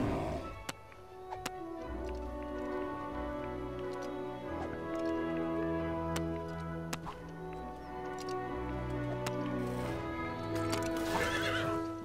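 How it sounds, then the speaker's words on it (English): A horse in the Lego Worlds video game neighs and whinnies over a steady clip-clop of hooves, with sharp ticking clicks scattered through and a louder stretch of noise near the end; no speech. "Okay, I got a horse here."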